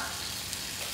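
Mixed vegetables and bell pepper sizzle in a frying pan. The hiss is close, loud and steady throughout, with no voices.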